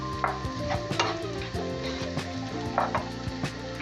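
Rice sautéing in plenty of butter in a pan, a steady sizzle with repeated scraping and stirring knocks of a utensil against the pan, close and continuous.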